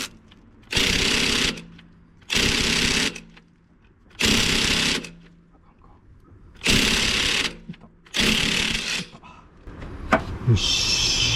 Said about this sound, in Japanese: 私はもう最初から文明の利器インパクトレンチでやることにしました